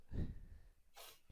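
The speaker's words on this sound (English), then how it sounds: "you have like funny sneezes" One short, sharp human sneeze bursts out close by, followed a moment later by a breathy, hissing exhale, with no speech around it.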